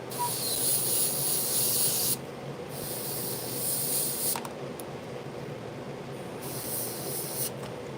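An airbrush sprays paint while painting a tiger, giving three separate bursts of sharp, close hiss with short pauses between them, over a low background rumble.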